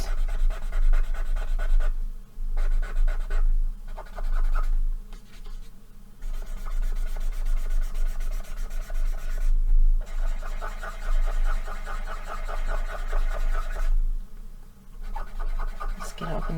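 An alcohol marker squeaks and scrubs while erasing ink on paper, close and loud, with repeated rubbing strokes broken by brief pauses.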